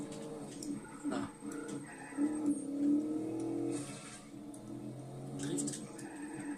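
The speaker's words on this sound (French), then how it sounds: "On va faire un peu de vitesse comme ça, en petit drift de calme." A car speeding and drifting in the video game Just Cause 3, with a steady engine drone that rises and falls across the run, moderately quiet, with faint clicks and brief tyre noises.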